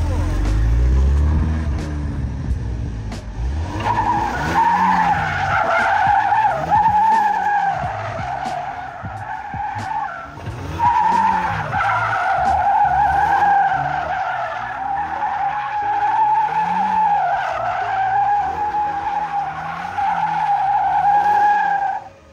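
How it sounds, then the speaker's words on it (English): A car engine revs and wails in repeated rising and falling sweeps while tires skid and squeal through drifting slides, loud and close throughout. "Very good car for sliding."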